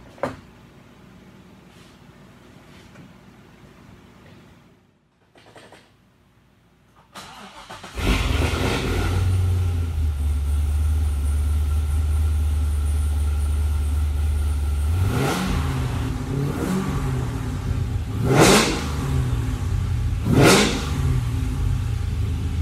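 A Mazda ND Miata fitted with a V8 engine starts after a quiet stretch, settles into a loud, steady idle close by, then is revved in several sharp, rising bursts toward the end.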